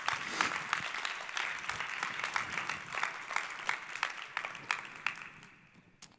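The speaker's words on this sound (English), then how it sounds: "Yes, clap it up." An audience at a storytelling talk claps for several seconds, a dense patter of hands that swells and then thins out toward a few scattered claps at the end.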